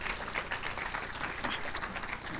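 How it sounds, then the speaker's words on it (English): Brief, steady round of applause from a crowd at a scholars' senior celebration, dense clapping without pause. "let's give ourselves a round of applause as we start the next stage"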